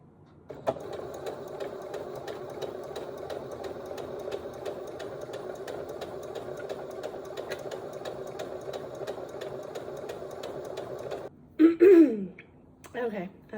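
A sewing machine runs a long straight gathering stitch down a length of fabric, humming and clattering steadily at close range for about ten seconds before stopping, followed by a brief voice.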